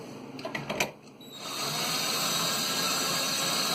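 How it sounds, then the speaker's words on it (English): A steady mechanical whir from a cordless drill with a socket starts after a few clicks and runs continuously at a constant, moderate speed, turning BMW motorcycle tapered roller wheel bearings. "I got a socket and a cordless drill,"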